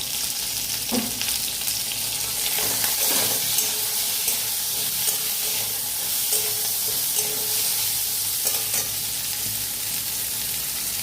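Sliced ridge gourd with a little salt frying in a pan and being stirred, a steady bright sizzle running throughout with occasional soft scrapes and taps of the spatula.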